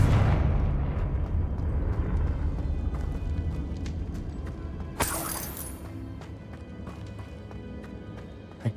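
Confringo explosive spell fired in Hogwarts Legacy, a dense rumbling game soundscape with a sharp bright blast bursting in midway, then fading debris and clatter.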